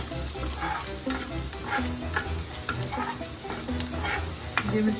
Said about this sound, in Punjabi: ਥੋੜਾ ਨਾ ਆਪਾਂ ਲਸਣ ਨੂੰ ਸੇਕ ਲੈਣ ਦਵਾਂਗੇ